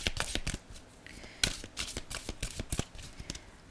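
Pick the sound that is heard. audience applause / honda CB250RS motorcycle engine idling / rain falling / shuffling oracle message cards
shuffling oracle message cards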